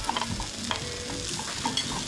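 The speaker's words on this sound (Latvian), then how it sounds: "Un te jau top ceptas nūdeles." Noodles for mie goreng fry in a wok, giving a steady close sizzle with scraping stirring strokes throughout and no voices.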